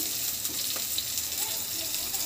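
Green chilies fry in hot oil in a pan for tomato chutney, a steady bright crackling sizzle that holds even throughout, close and continuous.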